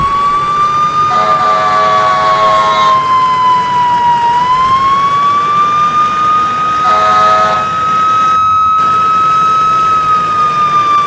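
A fire engine's manual siren in the video game EmergeNYC wails loud and continuous, its pitch falling and rising in slow sweeps, while short blasts of the truck's air horn break in twice over engine rumble.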